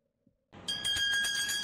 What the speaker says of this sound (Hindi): इस घंटी का कनेक्शन इस कुल्फी के साथ बड़ा गहरा है।